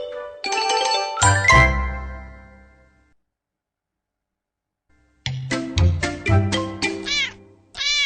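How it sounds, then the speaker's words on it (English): A kitten meows several times in two bursts separated by a pause, high and clear, with faint tinkling tones mixed in. "This is a kitten."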